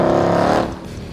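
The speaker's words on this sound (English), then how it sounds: "MBRP now offers this axle back muffler delete system, which looks great, is very affordably priced, and sounds amazing on your S550 Mustang GT." S550 Mustang GT with an MBRP axle-back muffler-delete exhaust, giving a short, loud, raspy engine rev that quickly falls away; no one speaks.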